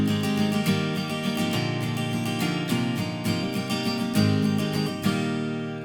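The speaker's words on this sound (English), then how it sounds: "If I was using the yellow and I was strumming very flat, it would sound like this." An acoustic-sounding guitar strummed with a yellow pick held very flat against the strings, steady repeated strums ringing out with full sustained chords, close and clear with no talking.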